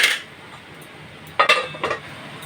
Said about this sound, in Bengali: এবার ভাজা মাছগুলো দিয়ে দিলাম